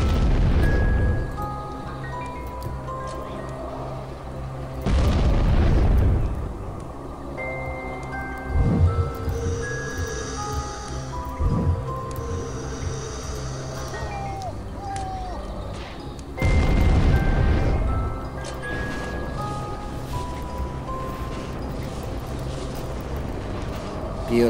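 Two heavy booms from an explosion in the video game American McGee's Alice rise over steady game music, each a loud broadband burst lasting about a second, with smaller thuds and crashes scattered between them.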